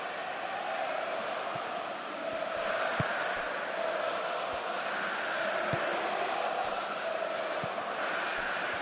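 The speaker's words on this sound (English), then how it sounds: "Crowd appreciates good football all round there." A stadium crowd in a console football game roars in a steady, broad wash, swelling slightly at times, with faint scattered thuds beneath and no speech over it.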